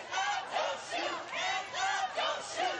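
Protest crowd marching in a city street after the Ferguson decision, chanting in loud rhythmic bursts that repeat several times, echoing close by.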